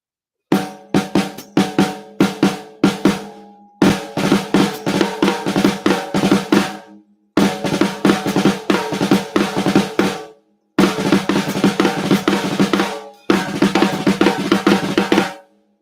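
A drum rudiment pattern of flams and drags over dotted doubles played on drums, loud and close, in four dense rhythmic phrases separated by short silences.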